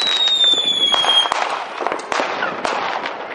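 New Year's Eve fireworks and firecrackers in Großheide, Germany, marking the 2013/2014 turn of the year, crackle and pop in rapid sharp bursts close by, with rising whistles at the start and a dense, loud rattle throughout.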